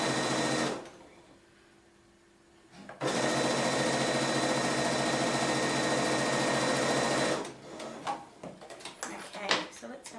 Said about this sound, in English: when you're sewing along, these seams that you've ironed out flat, you get caught on the foot and come back towards you